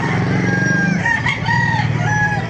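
Gamefowl roosters of a hen-feathered line crow at a Baliuag, Bulacan farm. Several overlapping crows come from near and farther off over a constant barnyard din.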